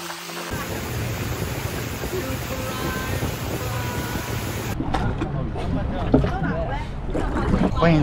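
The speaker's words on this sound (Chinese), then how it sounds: "以坐船轮渡的方式，快艇来到了蓝洞世界。" Speedboat ferry ride out to the Blue Hole in Egypt, with a steady roar of engine and rushing water throughout and people talking over it near the end.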